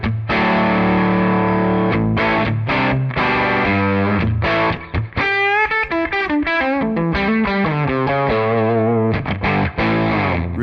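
An electric guitar played through a Tonex vintage amp tone model gives a loud, gooey overdriven tone, with chords and single-note runs filling the clip continuously, no talking.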